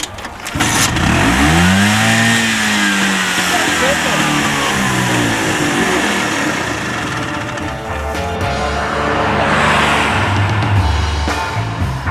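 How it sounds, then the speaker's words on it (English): A small scooter engine runs loudly up close, revving and sputtering unevenly with rising and falling pitch, rough popping throughout the whole stretch. "The engine's sputtering a little bit, so we'll maybe change the spark plug."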